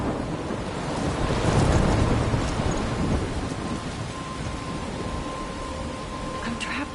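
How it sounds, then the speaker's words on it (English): Thunderstorm in the Life is Strange video game: steady heavy rain with a rolling rumble of thunder swelling in the first seconds, then continuing downpour and wind. "I'm trapped in a storm?"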